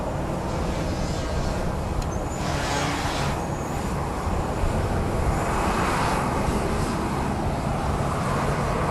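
Boeing 737-700 jet airliner at Dallas Love Field, bound for Phoenix, a steady broadband engine roar at moderate distance that holds evenly throughout with slight swells, no voices.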